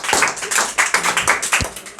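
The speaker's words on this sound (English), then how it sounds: "इनके लिए guys clap कर दो भाई." Scattered claps from a small classroom audience during a spoken English class, several hands striking together in uneven bursts close by, with no voices over them.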